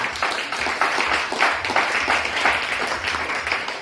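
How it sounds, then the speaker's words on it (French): A church congregation applauds the Lord, sustained rhythmic clapping from many hands filling the room at moderate loudness, with no speech over it. "On acclame le Seigneur."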